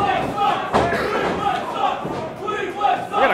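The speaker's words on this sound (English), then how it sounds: "We got a Cleveland Sucks chant." A wrestling crowd at a live indie casket match chants in unison, a loud rhythmic roar of voices rising and falling with thuds mixed in and a commentator talking over it.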